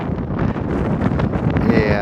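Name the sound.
strong wind with fog on a mountain trail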